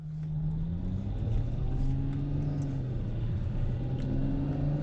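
A 731 hp Ferrari V12 drives on a mountain road in the UAE, its engine holding a steady, loud rumbling drone with gently shifting pitch throughout, no voices.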